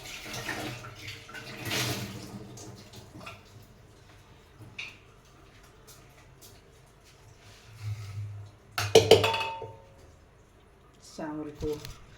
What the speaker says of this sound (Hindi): चावल को धो के फिर मैं इसी कुकर में चढ़ाती हूँ